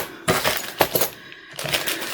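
Metal keys being handled, a few sharp jingling clinks in short bursts with quiet gaps between, close and clear with no talk.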